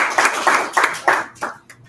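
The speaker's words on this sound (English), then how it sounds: "Round of applause." Audience applause after a talk at a leadership lunch event, heard as several loud, uneven bursts of hand clapping that come and go in short waves before fading out.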